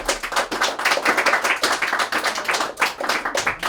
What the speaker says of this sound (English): Can we have a round of applause for Mike?